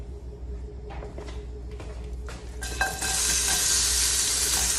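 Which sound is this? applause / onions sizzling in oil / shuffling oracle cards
onions sizzling in oil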